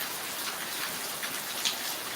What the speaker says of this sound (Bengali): অনেক বৃষ্টি হচ্ছে দেখেন অনেক বৃষ্টি